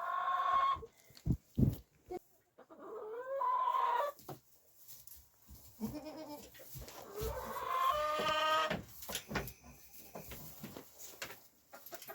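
Farm chickens cluck and cackle close by in irregular bursts, with loud squawking calls and a crow-like cry among them, separated by quieter gaps.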